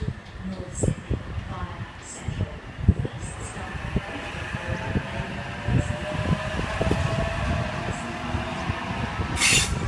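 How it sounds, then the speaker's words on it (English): A Sydney Trains service departing the platform at Pendle Hill station, a low rumbling and rising hum of the train pulling away, heard under someone talking throughout. "North Sydney service now departing, or about to depart platform number 1."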